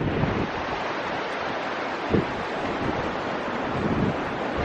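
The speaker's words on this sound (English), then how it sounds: "Yet another windy, stormy day in Cornwall." A strong wind roars steadily against the microphone while heavy surf churns and crashes on a stormy Cornwall shore.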